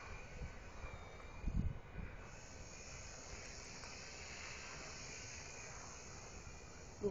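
A small Blade mCP X RC helicopter wearing a Bell 47G scale body flies outdoors on a breezy day, its steady high-pitched rotor whine running continuously at a moderate distance, with a brief gust of wind noise near the start.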